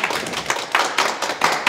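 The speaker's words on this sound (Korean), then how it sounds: "아, 큰 박수 부탁드립니다." Lecture audience applauding, a short burst of close, dense hand clapping in uneven waves with no talk over it.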